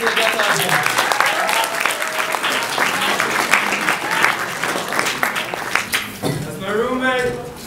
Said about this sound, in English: Keep clapping for the guest out here.